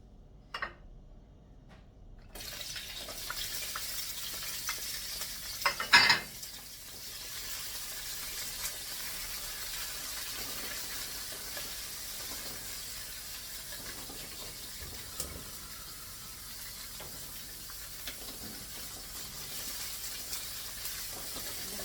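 Sliced garlic dropped into hot olive oil in a pan gives a steady, close sizzle and hiss, with a brief louder crackle near the start and a constant frying sound after it, no talking.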